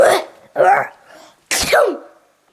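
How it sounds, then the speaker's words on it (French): A voice acts out a dragon's big, exaggerated sneeze in a school animated film: two wheezing build-up breaths, then a loud explosive burst trailing off. "La fée donne alors du poivre au dragon pour le faire éternuer"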